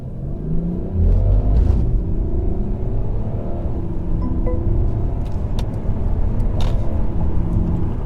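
A turbocharged 3-litre inline-six diesel car pulls away with a steady, deep engine rumble that swells slightly early on and holds smoothly to the end.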